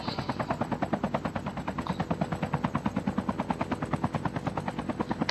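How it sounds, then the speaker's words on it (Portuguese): A helicopter flies in the mobile shooter Call of Duty Mobile, its rotor thumping in a steady, fast, even pulse throughout, close and fairly loud, with no talking. "Olha o helicóptero aí, ó."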